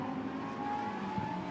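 Lamborghini Super Trofeo race cars come downhill at Imola, a steady engine drone with a held high whine rising slightly, fairly close and continuous with no pauses over a short moment.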